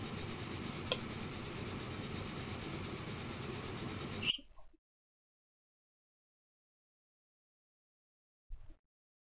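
A locomotive in the video game Transport Fever runs with a steady rumbling, clattering drone for about four seconds, then cuts off abruptly into silence, followed by a brief faint thump near the end.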